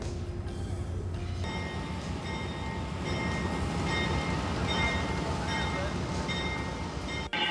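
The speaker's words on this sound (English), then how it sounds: "They're going to pull it out of the roundhouse, put it on the turntable, put it on the track" An Amtrak Genesis locomotive is pulled out of a roundhouse toward a turntable, its heavy diesel rumble and tonal whine building steadily up close, with metallic rail squeals and clanks and voices talking over it.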